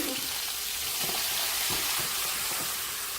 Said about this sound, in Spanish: ahora ya tenemos picadito el pimiento y la cebolla. Entonces, vamos a echarlo a la sartén